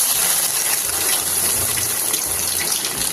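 Potatoes going into hot cooking oil in a home kitchen pan, giving a loud, steady gushing sizzle that fills the whole stretch without pause.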